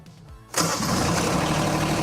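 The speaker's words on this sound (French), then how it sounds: "Alors vous pouvez démarrer la machine." Diesel engine of an RCM Mille Plus floor sweeper cranking briefly and then catching, settling into a loud, steady close-up running drone.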